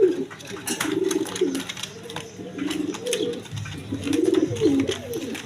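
A pair of black Danish pigeons coo in repeated low, throaty rolling phrases close by, with soft rustles and clicks between calls.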